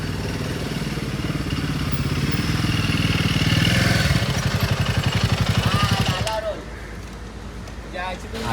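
Guerrilla motorcycle ridden along, a loud, steady engine drone with rattling clatter that rises, then cuts off abruptly near the end, leaving quieter background noise.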